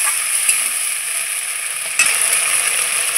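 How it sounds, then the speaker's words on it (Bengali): Ground spice paste frying with browned onions in a pan for Bengali mutton kosha: a loud, continuous close sizzle with two distinct stirring knocks. "আমি পেঁয়াজের সঙ্গে খুব করে কষিয়ে নেব।"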